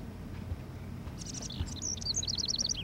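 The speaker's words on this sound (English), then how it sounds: "Can you help me get this bird out of here?" A bird trapped indoors in a house in the Life Is Strange video game gives a run of quick, bright chirps that grow busier and louder toward the end, over low background ambience.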